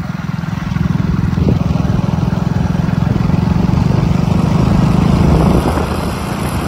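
A motorbike rides along a rough rural track toward a village well, its engine droning loud and steady with a close, continuous rumble throughout.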